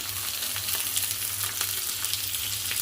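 Four large sliced tomatoes fry in hot oil for chutney, a dense steady sizzle with crackling spatters, close and continuous with no talking.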